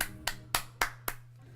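Applause effect on a Pokemon TCG Pocket stream, heard as five sharp, evenly spaced clap-like bursts over a steady low hum, fairly quiet and without talk.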